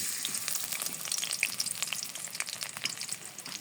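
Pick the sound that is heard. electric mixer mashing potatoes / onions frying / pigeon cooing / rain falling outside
onions frying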